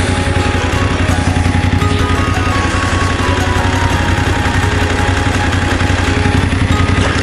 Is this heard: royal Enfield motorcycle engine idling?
yes